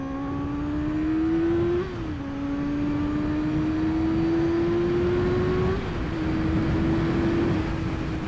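Motorbike engine with the end can removed, revving hard in second gear up to around 8,000 rpm, a loud sustained drone whose pitch climbs steadily, dips briefly at a gear change, then rises again.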